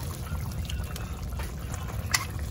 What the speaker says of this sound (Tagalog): Tapos tsaka nyo po lagyan ng bahagyang tubig at ilagay po natin ang ating talong